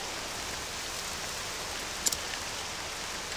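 Steady rain falling in the video game Octopath Traveler 2, a continuous even hiss with no voices and a couple of faint, brief clicks partway through.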